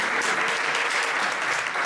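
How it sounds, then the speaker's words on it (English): Short, steady round of audience applause during a keynote address, rewarding a listener's correct answer to a riddle; dense clapping from a sizable crowd without talk. "Give him a round of applause."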